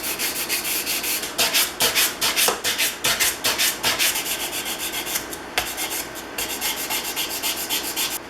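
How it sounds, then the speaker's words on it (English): A plane iron and cap iron from a Stanley No. 33 jointing plane are rubbed by hand on a sanding block. The rasping strokes come close and steady, each with a short scratchy push and a brief pause. "finish the flat surfaces of the iron and the front side of the cap iron using some 3000 grit paper"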